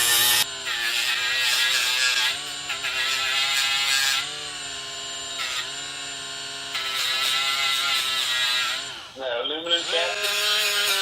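Rotary tool at reduced speed driving a roll lock sanding pad against cast aluminum, a steady high-pitched whine and grinding rasp that holds for several seconds, dips briefly and resumes.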